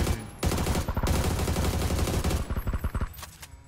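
Bursts of rapid gunfire in the battle royale game PUBG, loud and close, with a short opening burst, a long sustained volley, then a rattling run of shots tapering into scattered final pops.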